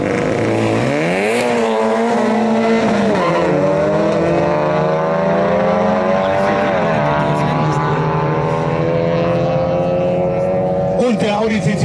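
An Opel Corsa A 1.6 16V doing a burnout at a quarter-mile drag event, its engine screaming loud and sustained, pitch rising and sagging repeatedly as the revs swing.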